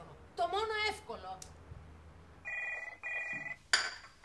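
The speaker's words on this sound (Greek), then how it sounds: "Δεν μπορώ, ρε Μέρη, πρωί-πρωί να χτυπάει το τηλέφωνο" Telephone ringing indoors, two short electronic ring bursts at a steady interval, clear and fairly loud, preceded by a voice and light clattering.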